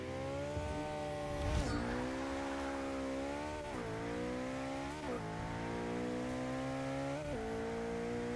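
Forza 6 race car engine, a BMW E30 or McLaren 650S, revving hard and loud through repeated rising pulls, with quick upshifts dropping the pitch every second or two and a brief tire squeal early on.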